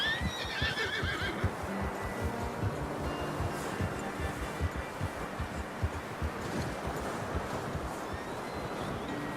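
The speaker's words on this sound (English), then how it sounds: "I'm gonna hitch Taima over here" A horse in the Red Dead Redemption 2 video game whinnies loudly at the start, then its hooves clop in a quick steady rhythm close by, with a faint breezy hiss underneath.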